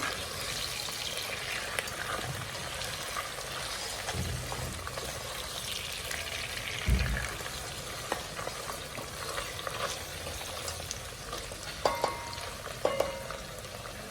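Okra stew simmers hot in a pot as a spoon stirs it, a soft continuous bubbling and sizzling bed with occasional scrapes and knocks of the utensil against the pot, close and fairly quiet.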